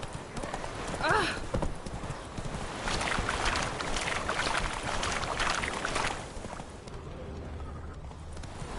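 Roach the horse galloping in The Witcher 3, rapid hoofbeats clip-clopping steadily over a busy outdoor soundscape, with a brief whinny early on.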